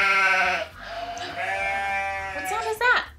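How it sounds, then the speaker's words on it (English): A farm sheep bleats in a long, wavering, nasal cry that rises near the end, close and loud, heard on its own. "Oh, es la oveja."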